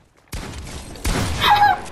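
Gunfire in the Fortnite video game, a sudden loud burst of rapid shots that runs continuously for nearly two seconds, with a harsh sustained rattle and no speech.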